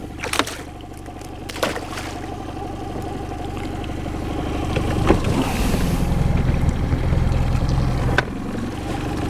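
A small outboard motor on an inflatable boat hums steadily, holding against a river current, with wind buffeting and occasional knocks and splashes around the boat.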